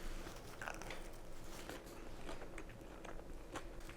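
Someone bites into a re-crisped pizza slice warmed in a Ninja Crispi, with a few soft crunching bites and chewing, close but quiet, with no talking.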